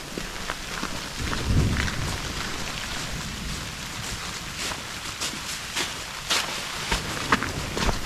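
Steady rain falling on a surface along a rutted back road in a very wet area, with a low rumble of thunder early on and scattered sharp drips throughout, no voices.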